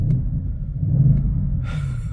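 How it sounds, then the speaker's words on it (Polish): Audi RS6 4.0 V8 with RS Dynamic exhaust, 2022 model, idling in Dynamic mode: a steady low rumble rolls on without a break, with a brief higher rasp near the end. "O, w dynamiku od razu robi się, słyszycie, jak mruczy?"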